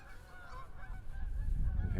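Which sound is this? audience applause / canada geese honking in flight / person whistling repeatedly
canada geese honking in flight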